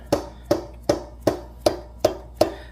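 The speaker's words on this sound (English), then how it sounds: "Tapping with my rubber hammer." Seven evenly spaced, dull thudding taps of a rubber hammer in a steady rhythm, close and moderately loud, with no talking, while fitting a Harley-Davidson Street Glide rear tire.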